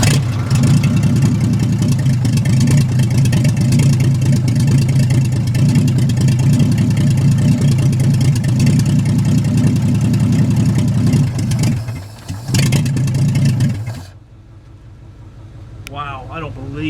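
A rough old 1941 Chevrolet engine runs loud and steady with uneven revving after long disuse, then sputters and cuts out as it floods, leaving near silence and a faint voice.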